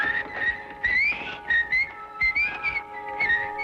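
A person whistles a few short rising and falling notes in quick bursts, clear and close, with brief pauses between phrases.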